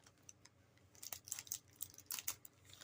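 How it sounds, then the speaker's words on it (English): A few crisp snipping sounds come close together, short bright bursts with small pauses between them in a quiet room. "that was the scissors making that noise"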